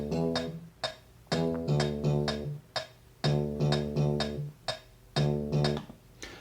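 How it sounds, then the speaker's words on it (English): Looping electronic tune made in SoundTracker tracker software, with a thumping bass line and sharp, repeating cowbell hits in a steady rhythm, no voices. "I'm opening with the bass and cowbell"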